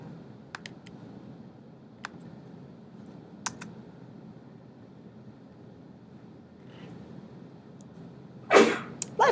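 A single sneeze bursts out loud near the end, after several faint scattered keyboard clicks in a quiet room.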